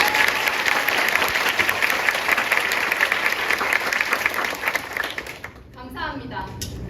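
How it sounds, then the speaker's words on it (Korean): Sustained applause from a theater audience at a student stage production, greeting the school principal's address, steady and dense before thinning out near the end. "학생들 그리고 내빈 여러분 모두 큰 박수 부탁드립니다"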